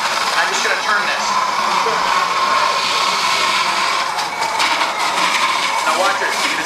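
A Blendtec Professional 800 blender churning nuts into nut butter, giving off a loud, continuous high-speed whirring roar that holds steady from start to finish.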